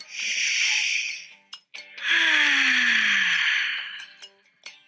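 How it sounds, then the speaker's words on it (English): Two long, deep breaths, in and out, fill a guided warm-up exercise. Each breath is a loud, close, airy rush lasting a couple of seconds, with a brief pause between them. "And breathing in and out."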